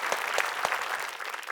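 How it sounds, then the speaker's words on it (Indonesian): A small group claps together in a short burst, a few distinct hand claps standing out from a busy patter, fairly close and moderately loud, fading toward the end. "sekarang tepuk tangan semuanya."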